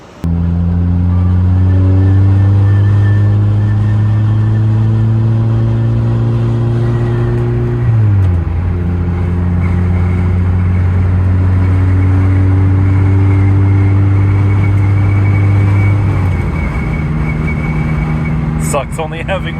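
A Volkswagen Golf R drones steadily from inside the cabin, its engine note holding through a gear change with a brief dip, while someone talks over the sound.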